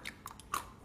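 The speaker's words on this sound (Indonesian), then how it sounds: "Hari ini kita ngemil serba kacang." Large crunchy garlic-coated peanuts being chewed as a snack, giving a few faint, brisk crunches spread across less than a second, with no talking.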